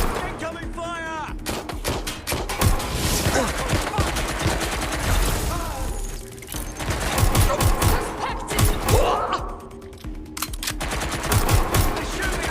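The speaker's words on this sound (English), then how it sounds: "They're shooting at us!" Gunfire aimed at the player in the video game Watch Dogs Legion: loud rapid bursts and single shots crack over a dense game soundtrack, with voices talking throughout.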